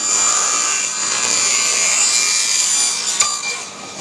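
Steady, loud sawing through a hard laminate sheet, a continuous bright rasp that holds evenly before a brief clack and easing off near the end.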